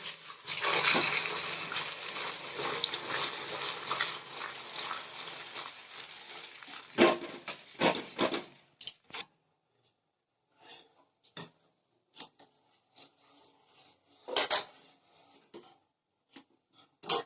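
Warm milk is poured into a pan of barfi pitha mixture over a low flame, first as a long, broad steady pour, then giving way to short scattered scrapes and taps of stirring.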